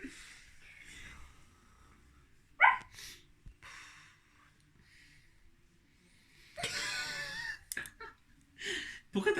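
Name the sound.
person imitating a dog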